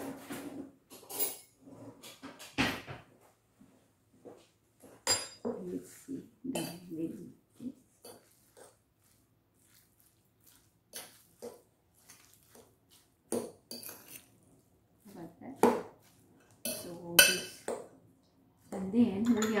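A pork and shrimp meatball mixture mixed in a bowl, with intermittent clinks and scrapes of a utensil against the bowl, soft squelches and pauses, and a nearby voice now and then.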